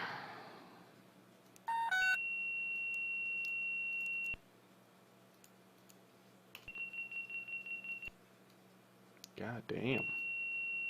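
Warning beeps from a Bell 407 helicopter in X-Plane during start-up: repeated bursts of electronic tones, some long and steady, some rapid pulsing, with a brief muttered voice near the end.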